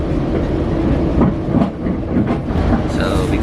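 A Metrolink commuter train in Orange County, California rumbles along the rails with a steady clickety-clack, loud and close, with a faint metallic squeal near the end.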